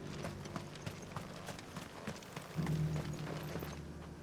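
Clip-clop of a horse mount's hooves in Final Fantasy XVI as it heads back to the stables, a steady close trotting rhythm under game music, growing louder and fuller partway through.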